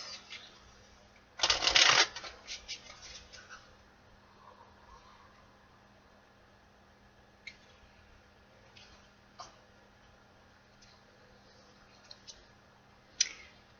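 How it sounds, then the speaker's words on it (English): Tarot cards being shuffled, with one loud, close riffle near the start followed by scattered faint card taps and clicks over a quiet background. "One more shuffle, Taurus."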